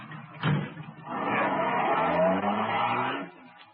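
A car sound effect in a 1949 radio crime drama, with a door slam followed by an engine starting and revving as the car pulls away, recorded close and clear.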